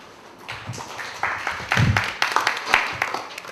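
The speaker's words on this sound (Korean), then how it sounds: "박수 소리가 시원찮구만" Scattered, thin applause from a small lecture audience at the end of a theory class, a few claps at first that swell briefly and then trail off, fairly near.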